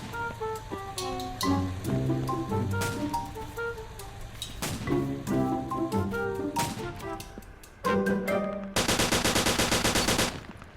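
Anti-tank gun firing in the Roblox Multicrew Tank game, a series of loud booming shots with ringing tails, followed by a long, dense burst of rapid gunfire near the end.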